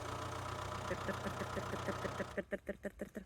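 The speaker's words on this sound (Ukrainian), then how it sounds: "Це трактор." A low engine chugs steadily, then its rhythmic knocking pulses grow more pronounced toward the end; fairly close and moderately loud.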